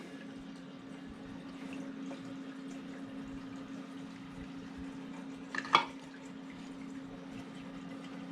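Steady trickling and bubbling water from a Reefer 250 aquarium with excess water, with a low electrical hum, broken by one brief splash or clunk near the end.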